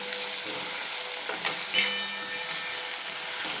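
Finely chopped onion sautés in a pan toward golden brown, a steady close sizzle with a few sharp stirring scrapes and clicks, no voices.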